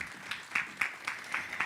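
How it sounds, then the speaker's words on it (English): Conference audience at the Absa Zambia Inspire Me event claps for the moderator, a thin, fairly faint applause with distinct evenly spaced hand claps standing out from a soft background. "And a round of applause for our brilliant moderator, Sandy"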